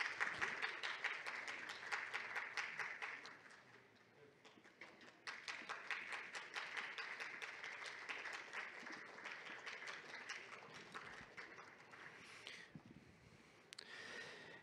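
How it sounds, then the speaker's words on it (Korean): Steady applause from guests at the 21st Landscape Architecture Day ceremony as the honored guests walk in. It is moderately distant, dips briefly, then swells again and continues throughout. "박수로 맞아주시면 감사하겠습니다"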